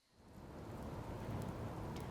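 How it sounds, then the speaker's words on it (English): Rain falling in the game Spirit Hunter: Death Mark, a soft steady hiss fading in and holding evenly, faint and without voices. "The rain falling when I left Kujo Mansion is now turned into a drizzle."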